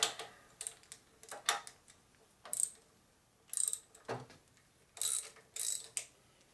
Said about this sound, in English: Okay, then I go over here and I loosen up this bolt.